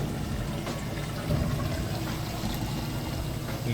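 An Amana direct drive washing machine drains water steadily, making a continuous loud whoosh and gurgle with a pump hum beneath, with no talk.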